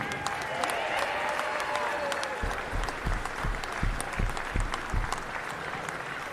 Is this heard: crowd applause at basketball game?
yes